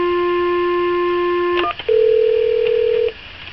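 A touch-tone IP Office 1416 desk phone sounds two clear dialing tones, a longer one followed after a short click by a second of about a second, loud and close, alone.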